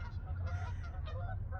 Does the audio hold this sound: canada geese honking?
yes